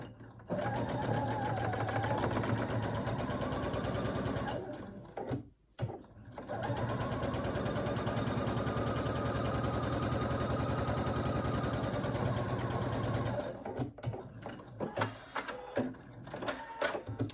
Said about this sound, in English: you are going to line up the raw edges and sew down the sides